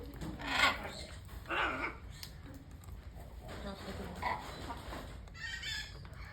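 A baby triton cockatoo gives several short, raspy squawking calls close by, scattered among quieter background noise and murmuring voices.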